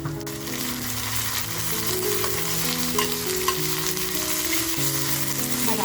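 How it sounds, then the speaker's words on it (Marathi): Freshly ground masala hits hot oil after a pinch of asafoetida, sizzling and crackling steadily with occasional stirring scrapes, close and continuous throughout with no voices. "आता आपण जो मसाला वाटून घेतलाय ना तो मसाला टाकते तेलामध्ये"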